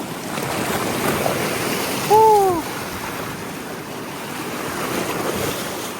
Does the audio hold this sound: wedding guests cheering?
no